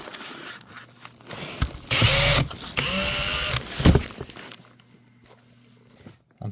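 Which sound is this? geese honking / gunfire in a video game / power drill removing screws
power drill removing screws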